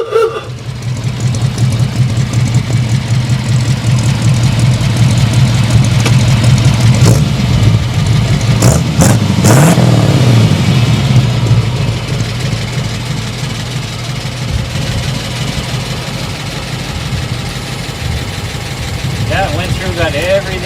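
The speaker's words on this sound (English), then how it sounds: "It's a brand new engine." A 1932 Ford car with a brand new engine runs steadily up close, rising briefly in a rev before settling back into an even idle, with people talking over it.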